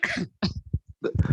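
A person coughs several times in short, harsh bursts, close to the microphone and fairly loud, with brief pauses between coughs.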